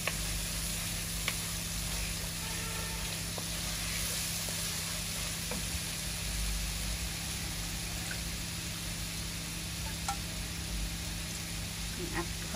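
Onions and chili powder fry in hot oil in a home kitchen, giving a steady, close sizzle and hiss with occasional small pops and scrapes that carry on throughout.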